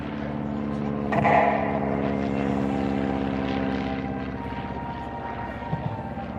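An American Piper L4 observation plane, painted with black and white wing stripes, flies past at an airshow, its propeller engine droning steadily and loudly with a slight swell as it passes, no voices.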